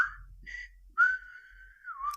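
A single person whistles a film theme tune, a short phrase followed by a long sustained note that bends downward, fairly loud and close.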